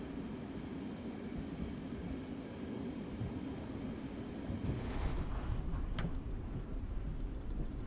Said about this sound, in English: Holy, you hear that thunder?